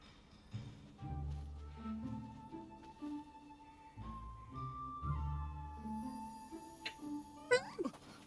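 A cat meows in the video game Nioh 2, with short game tones and low music around it and a few sharp clicks near the end; a voice talks faintly in the background.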